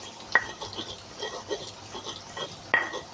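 Spices are ground for potato perkedel with a stone ulek, a mortar and pestle, giving scraping, grinding strokes and two sharper knocks of stone on stone, close and moderately loud with no talking.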